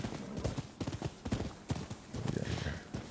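Rhythmic clip-clop of horse hooves trotting in a video game, steady and fairly close, with a brief whinny-like sound near the end and some background game ambience.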